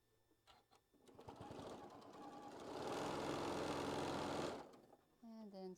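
A sewing machine stitches quilt block pieces at a quarter-inch seam, running in a steady motorized whir that builds and holds for a couple of seconds, then stops before a brief bit of talk.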